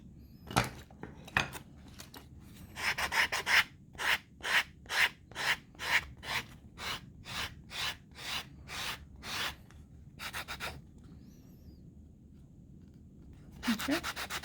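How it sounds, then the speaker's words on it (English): Soft leather pocket knife sheath sanded by hand, a run of about a dozen rhythmic rasping strokes, close and clear, with a pause near the end and a final burst of rubbing. "It's actually quite soft leather and does sand down quite nicely and quite quickly."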